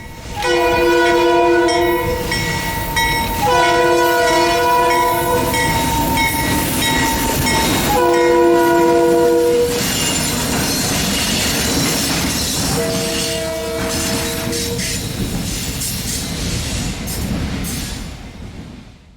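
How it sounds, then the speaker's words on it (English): An ALCO diesel locomotive passes through town sounding its multi-tone horn in several long blasts, with rumbling engine and rolling wheels underneath, loud and close before easing off. "the train makes plenty of noise as they pass through town"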